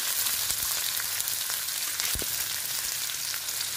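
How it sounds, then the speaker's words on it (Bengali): Onions frying in hot oil while being stirred, a loud, steady sizzle filling the whole stretch with occasional scraping knocks from the stirring. "পেঁয়াজটা দিয়ে অল্প নেড়ে চেড়ে নিচ্ছি"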